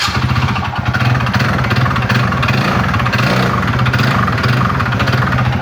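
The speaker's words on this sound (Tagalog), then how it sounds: "So ito ang tunog pag connecting rod pin." A scooter engine runs with a knock from a worn connecting rod pin, a loud, close, continuous clattering rattle over a steady mid-pitched engine hum.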